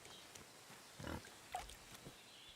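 A pig in the Kingdom Come: Deliverance II video game gives a few short, separate grunts. They are faint and spaced across a quiet moment, with a slightly louder burst partway through.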